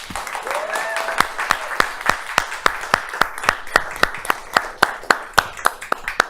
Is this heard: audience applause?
yes